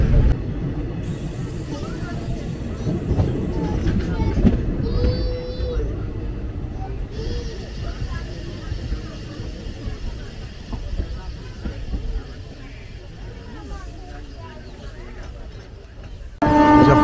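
Rumble and rattle of the Rourkela Intercity Express running between Koraput and Jagdalpur, a steady carriage drone under continuous talking, with brief horn-like tones partway through.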